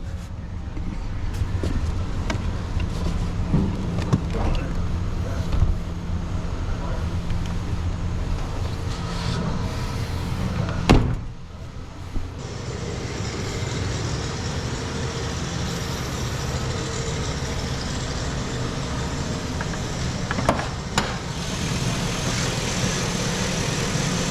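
A 2005 GMC Sierra pickup engine with about 100,000 miles runs with a steady, rough, noisy drone at a constant loud level, with a few brief clunks and a short dip midway.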